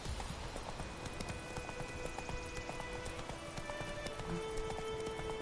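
A horse canters in The Witcher 3: Wild Hunt, its hooves drumming in a quick, continuous gallop rhythm over the game's ambient sound, fairly faint and with no voices.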